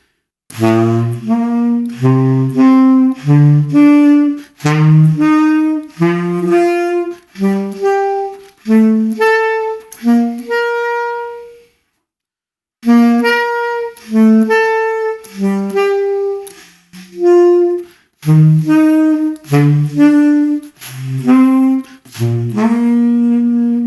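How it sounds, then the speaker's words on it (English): A reed woodwind alternates a low note with the same note an octave higher, starting from low C and stepping up a scale in short detached pairs, then back down after a brief pause. "So I'll play low C, and then I'll hit the octave key."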